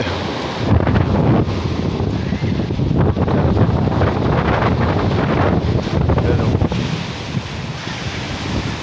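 Big ocean waves crash and roar continuously, loud and close, with heavy wind buffeting the microphone throughout, at a beach in Balugo, Leyte.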